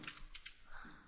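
Typing on a computer keyboard, a few quick faint key clicks over a short stretch in a quiet room.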